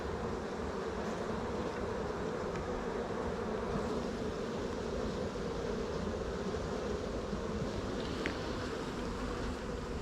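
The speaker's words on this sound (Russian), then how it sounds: "Ох, а там пчелы еще сколько. Сколько там еще пчелы." Honeybees at an open hive make a steady, dense hum that holds level throughout, fairly close, with no voices.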